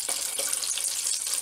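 A steady stream of potato starch mixed with cold water pours continuously into a pot, a bright splashing rush that holds at an even level for a moment.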